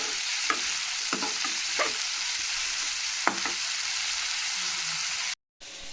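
Onions stirred as they fry in a small amount of oil for a green mango small-fish curry, a constant close sizzle broken by several sharp spatula scrapes, then a short silent gap before the frying resumes.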